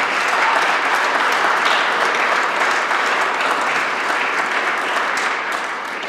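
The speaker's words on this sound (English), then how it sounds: "And those of you who choose may applaud in French." Audience applause at a premier's swearing-in ceremony in Manitoba, loud sustained clapping from a large crowd that stays full and even before easing slightly at the close.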